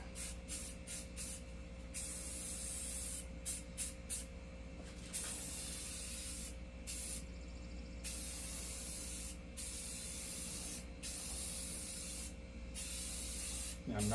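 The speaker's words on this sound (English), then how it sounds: "I've done the wheels in the same color, so we're going to put on about 3 medium coats" Spray paint goes onto wheels in medium coats, giving a close, steady hissing spray broken by short gaps where the nozzle stops and restarts.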